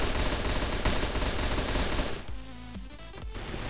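Rapid automatic gunfire in the CrossFire shooter game rattles loudly in dense bursts for about two seconds, then gives way to quieter game sounds.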